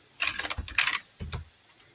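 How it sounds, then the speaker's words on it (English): Keys tapped on a computer keyboard while entering exponential regression values into a graphing calculator, a quick burst of close clicks followed by a short second cluster, then quiet. "so let's type that in"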